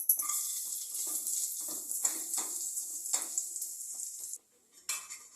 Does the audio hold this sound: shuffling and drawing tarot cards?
no